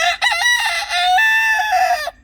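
A rooster crows once, loud and close, a long strained call that rises and then holds before cutting off.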